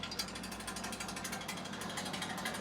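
Household GKP-4-220 pellet mill pressing broiler feed pellets, giving a continuous rapid mechanical clatter and grinding with a regular ratcheting pulse, loud and close, with no voices.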